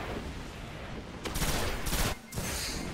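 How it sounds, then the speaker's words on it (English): Bursts of gunfire crackle in a Destiny Crucible multiplayer match on PS4, with a dense rattling volley swelling up in the middle, breaking off briefly, then resuming as a sustained, rapid stream of shots. "Oh, fusion rifle."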